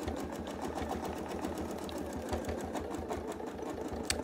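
A sewing machine stitches a quilt in a steady, rapid, even needle rhythm, running continuously at close range with a mechanical whir and no talk.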